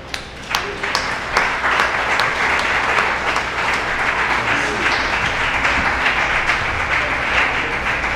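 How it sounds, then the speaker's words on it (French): An audience applauds the speaker Sylvain after a talk, with sustained dense clapping from a sizeable crowd and a few sharper individual claps standing out. "Applaudissez encore Sylvain"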